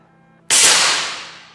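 A single sharp crack from a non-regulated knockdown air rifle firing heavier-than-usual pellets, loud and close, with a quick decaying tail after a quiet moment.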